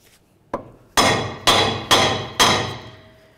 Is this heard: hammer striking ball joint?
yes